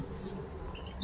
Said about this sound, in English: So here I have a male canary and a female goldfinch